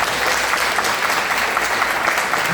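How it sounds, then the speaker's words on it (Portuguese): Audience clapping at a talk on autism, a steady dense wash of applause that holds at a fairly loud, even level throughout with no voices over it. "Vamos aplaudir?"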